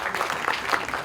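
A crowd claps at a film teaser launch event, a brief burst of loud, dense applause from many hands close by, with no voices on top.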